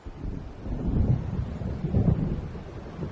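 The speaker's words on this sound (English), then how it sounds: "It seems there's a storm coming." A low, rolling rumble of thunder from an approaching storm in the video game Alan Wake swells and recedes across a few seconds, with a second heavy roll near the end, under a wash of wind-like noise.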